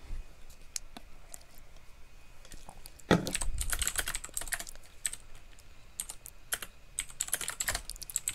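Computer keys clatter in quick irregular bursts, faint at first and then louder and busier after a few seconds, close up and without talking.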